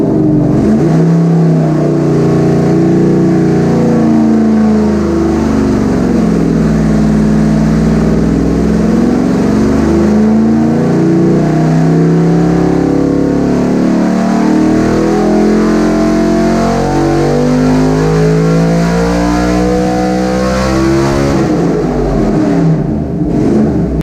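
A 327 engine topped with an 850 carburetor revs hard on a dyno, a loud sustained roar whose pitch sweeps up and down through repeated throttle pulls, closing out with a drop at the end.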